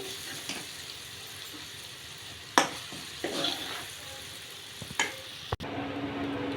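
Prawns sizzle steadily in a pan, with several clinks and scrapes as they are stirred and a brief sharp knock near the end, no voices present.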